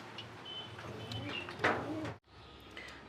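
Pet pigeons coo softly nearby in a low, throaty murmur over a faint background hum, followed by a brief scraping clatter and a sudden drop before the quiet cooing resumes.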